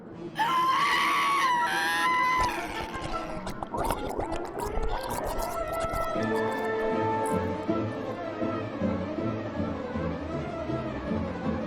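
A woman screams loudly and continuously while sinking into thick honey in a Danganronpa game execution, her cries turning to gargling, choked sounds over a sustained background of music and effects.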